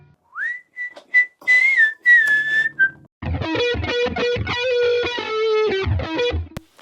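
Slightly overdriven electric guitar riff through an amp-simulation plugin preset, starting with a few sustained, bending notes, then a busier stretch of chugging, distorted chords and picked notes, loud and alone.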